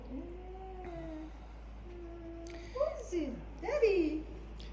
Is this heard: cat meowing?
yes